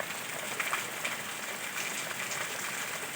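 Spring rain falling steadily outdoors, a continuous soft hiss of drops with a few slightly louder patters, fairly close and with no voices.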